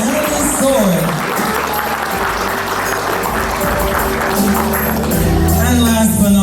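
Applause from the audience at a Samoan pageant competition, loud and steady for several seconds. A mixed crowd of hands and voices rises underneath, and cheers and calls run through it.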